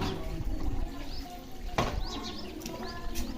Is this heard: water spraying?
yes